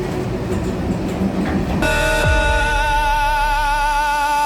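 A train rumbles into a railway station, then a sustained whining tone rises over the low hum as it slows, loud and close.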